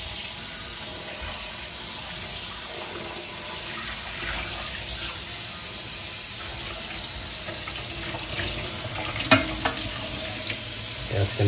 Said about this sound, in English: And then just pour out the liquid.